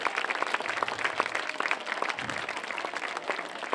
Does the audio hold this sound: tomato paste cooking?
no